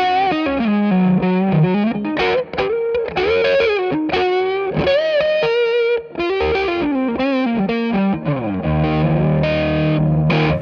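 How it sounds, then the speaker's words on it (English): Schecter Omen Extreme-6 electric guitar with coil-tapped Schecter Diamond Plus pickups giving single-coil twang, a fluid melodic line of bends and sustained notes with effects, alone and loud. "So you can get a lovely single coil twang from the Schecter Diamond Plus pickups."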